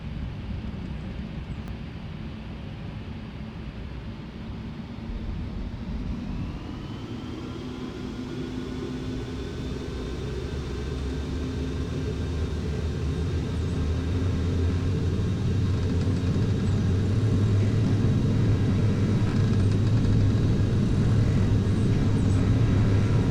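Airplane engines on the takeoff roll, a steady low roar that builds gradually in loudness with a rising whine joining partway through, under broadband wind and rumble, no talk.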